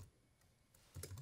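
Quick, quiet taps on a computer keyboard, a few soft keystrokes ending in a slightly louder cluster.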